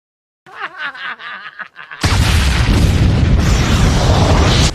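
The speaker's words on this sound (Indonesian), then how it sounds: "ledakan itu sampai mengguncangkan seluruh tempat di sana" Massive blast from leaking nitro liquid set off by sunlight inside a deep frozen ice mountain, a sudden loud roaring boom that fills the space and rumbles on steadily after a few seconds of quieter sound.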